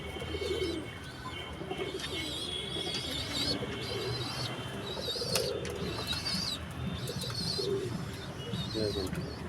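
Black deep-eyed pigeons cooing, soft repeated low coos with some chirps and wing flutters, fairly faint and close, with someone talking over them.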